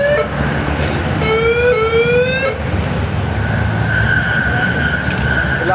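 An LRT train at Baclaran station in Manila, loud and close, with a continuous rumble under rising electric whines and a steady tonal hum that holds through the second half.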